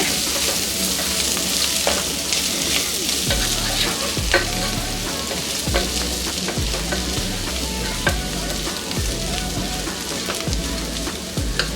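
Shredded cabbage stir-frying in oil, a continuous crackling sizzle broken by repeated scraping stirs of the spatula in a regular rhythm, close and without speech.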